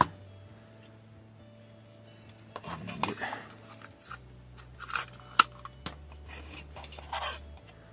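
Scissors or a blade cutting masking tape during work on a Subaru Impreza WRC scale model, a few short crisp snips and crinkles near the microphone over quiet background hum.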